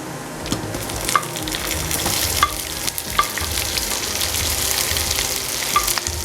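Sliced onion frying in hot oil for a spicy mutton curry, a close continuous sizzle with occasional sharp pops and clinks of a stirring utensil against the pan, no talking.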